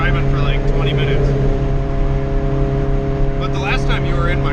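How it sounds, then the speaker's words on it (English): A turbo Honda Civic cruises down a highway with a steady engine drone and road rumble from inside the cabin, while people talk over it. "here we are cruising down the highway, 80 pounds of oil pressure"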